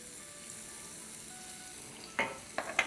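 Chopped garlic, about a tablespoon, sizzles softly in oil in a pan, a steady low frying hiss with a few brief louder crackles or stirring scrapes near the end; no voices.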